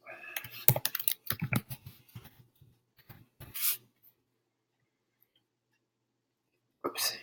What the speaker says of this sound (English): let's type his name